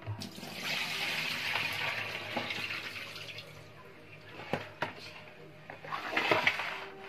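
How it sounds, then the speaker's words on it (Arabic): Water pouring and splashing as raw chicken is drained in a kitchen, a steady running flow with a few louder splashes and clatters, and a voice speaking faintly underneath. "هناخد بقى الفراخ نصفي الميه اللي فيها كلها"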